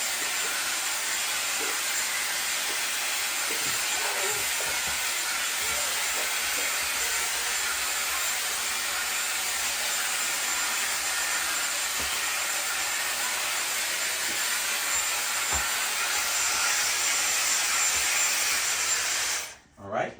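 A Dyson Airwrap hair styler blows air while drying long hair, a loud, steady close-up whoosh that holds unbroken for about twenty seconds before cutting off abruptly at the end.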